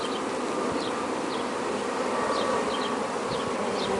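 Honey bees from a Taranov split hive hum in a steady, dense drone, close and continuous, with a few individual bees zipping past and no one talking.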